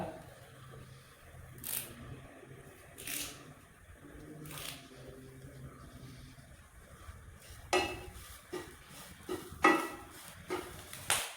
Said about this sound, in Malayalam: ഇതാ തേങ്ങ വറുത്തിട്ട് ഏകദേശം നല്ലൊരു ബ്രൗൺ കളറായിട്ട് വരുന്നുണ്ട്